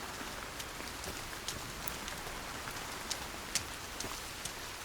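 Rain falls in the video game Sons of the Forest as a steady, dense hiss of drops striking surfaces, with occasional louder individual drops standing out, no voices.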